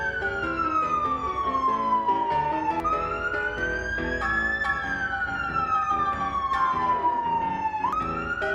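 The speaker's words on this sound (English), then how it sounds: "A couple blocks away, I heard the sirens." A police siren wails continuously from a few blocks away, its pitch sweeping slowly down and up in long cycles, steady and fairly loud with no voices.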